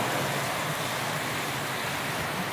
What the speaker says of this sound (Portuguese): Chuva aqui na cidade de Tumbiara, como vocês estão vendo, nesse momento.